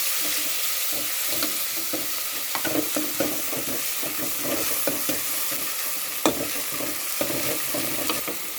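Curry paste pounded with shrimp paste sizzles in hot oil in a pot, a loud, steady frying crackle broken by repeated scraping stirs and clinks.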